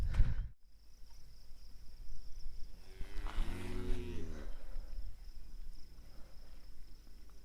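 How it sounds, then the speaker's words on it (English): Cows in a pasture on open Bureau of Land Management land in Montana, one low drawn-out moo rising and falling mid-clip over faint steady insect chirring. "I have this lovely little pasture that I'm in. Bureau of Land Management land"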